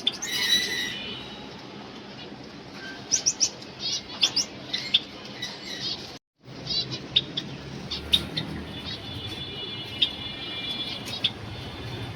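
Pet birds, small parrots in a home aviary, chirp and tweet in quick, bright bursts scattered over a steady noisy background, fairly close, with a brief gap midway.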